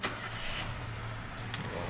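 A 2011 Toyota Avanza G car engine starting and settling into a low, steady idle, heard up close for about two seconds with no talking.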